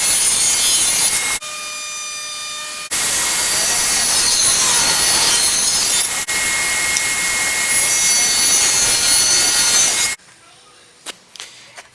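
A power tool cuts a dado into wood for the back of a custom mantel to hold marble. It makes a loud, harsh, continuous cutting roar with a brief drop in the middle before stopping abruptly near the end.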